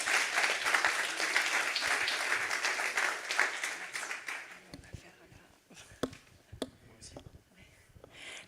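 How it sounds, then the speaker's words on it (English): Audience applause at the FPAII award presentation of the Monaco Energy Boat Challenge, dense and steady clapping for about five seconds before thinning out into scattered claps and soft murmurs. "You can applaud Salome"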